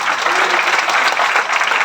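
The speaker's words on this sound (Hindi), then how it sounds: "एक बार ये सिल्वर डायरेक्टर्स के लिए जोरदार ताली बजा लो जरा यार।" An audience at a business presentation gives loud, sustained applause, a dense wash of clapping that stays steady throughout with no voices on top.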